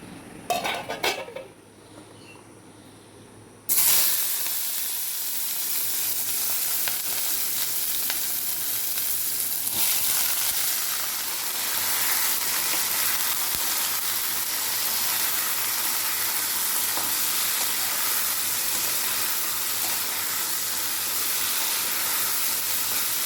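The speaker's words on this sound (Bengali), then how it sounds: "উচ্ছেগুলো বেশিরভাগ পেকে গেছে, ওই জন্য ভাজি করব" A loud, steady sizzle of bitter gourd frying in hot oil, continuous and close, following a few brief clinks of utensils at the start.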